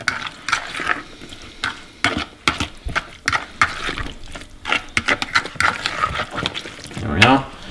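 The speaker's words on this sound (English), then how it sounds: "Mix your vegetables in with the leftover bean mix." Vegetables are stirred into leftover bean mix, a spoon scraping and clattering against the pan in irregular bursts, with a person talking over the stirring.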